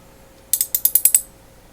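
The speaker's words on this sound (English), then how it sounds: "and it's ratcheting" Vintage Challenger 3/8-inch drive ratchet clicking through about seven quick, sharp metallic ratchet clicks in a fast even burst, close and loud against quiet.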